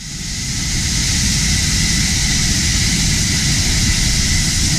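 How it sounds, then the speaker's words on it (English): A fighter jet plane roars in a steady, loud, broadband rush that swells up in the first second and then holds constant, with no voices over it. "We have a fighter jet plane."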